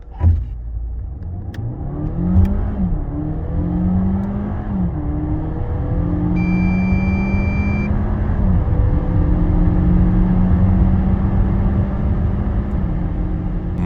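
DS 7 E-Tense 4x4 plug-in hybrid car accelerating hard from 0 to 100 km/h, heard from inside as a rising, whirring drivetrain note with several gear-like steps and steady road roar throughout.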